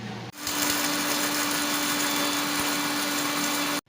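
A kitchen mixer grinder whirs to life and runs steadily at high speed, coarsely grinding whole cinnamon, star anise, cloves and cardamom, a loud continuous motor hum with faint rattling, then cuts off abruptly.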